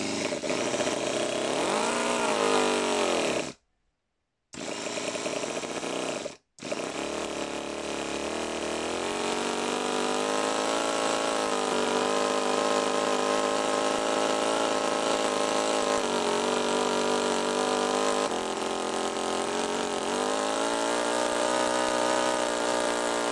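A small V6 turbo engine in an RC kit car runs continuously at a loud, steady buzz, with a few sharp cutouts near the start before it settles into sustained running.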